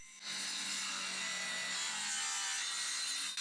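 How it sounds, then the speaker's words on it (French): A table saw blade set at 0 degrees rips steadily through wood, one continuous, loud, close, rasping cut that holds nearly unchanged from start to finish with no talk. "j'ai commencé par faire toutes les découpes avec ma lame à 0 degré d'abord"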